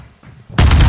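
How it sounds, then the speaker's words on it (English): A grenade explosion in Modern Warfare 2, a sudden loud booming blast that breaks in after a quieter moment of faint gunfire and rumble, close and heavy, with no voices. "They're throwing grenades"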